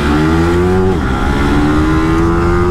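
A KTM Duke 250 motorcycle launches hard in a drag race against a Yamaha R15M, its engine revving loudly and climbing, dipping at a gear change, then pulling up again, close and alone.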